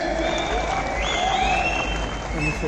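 An audience at a property launch event in Gurgaon claps loudly and steadily, with rising whistles cutting through the applause and voices audible underneath.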